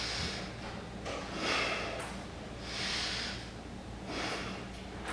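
Breath exhaled during a stomach stretching exercise comes as a few slow, airy whooshes, close and fairly soft, each rising and fading with short quieter gaps between.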